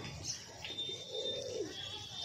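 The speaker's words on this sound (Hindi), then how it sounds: "ये हमारे कबूतर हर एक को देखें" Pigeons sunbathing after a bath give soft, low cooing murmurs in the middle of the clip, faint and close, over a steady background hiss with a few higher chirps.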